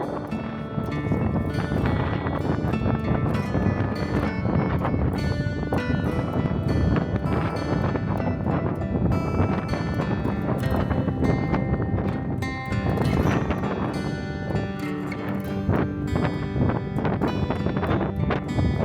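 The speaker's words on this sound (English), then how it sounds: "it's been windy, very, very windy" Strong, steady wind on the summit of Mount Lincoln, Colorado, at about 14,300 feet, roars against the microphone without letup, a dense buffeting rush that swells and dips slightly but never stops.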